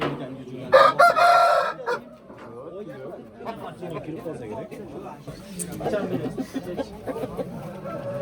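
A rooster crows loudly near the start at a poultry market in Özgön, with clucking fowl and people chattering throughout.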